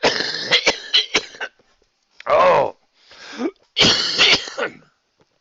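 A man coughs and clears his throat in harsh, wet bursts: a cluster of coughs, a pause, then two more heavy coughing fits, close to the mic, with a brief spoken word among them.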